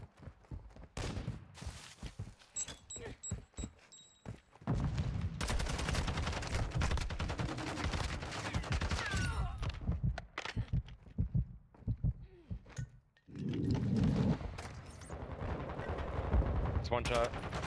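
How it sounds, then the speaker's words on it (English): Gunfire in Modern Warfare 2 ranked hardpoint play, bursts of automatic shots in clusters broken by quieter gaps, loud and close, with game sounds and some voice chat mixed in. "What is my teammate shooting me for?"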